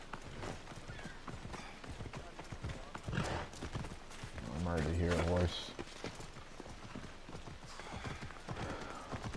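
Rapid clip-clop of galloping horse hooves with a whinny in the middle, synthetic game audio from Assassin's Creed Odyssey, while a person talks over it.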